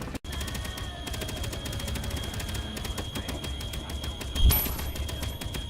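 Turret gunfire in the video game Space Engineers, a fast, steady stream of rapid shots that runs almost without a break at close range.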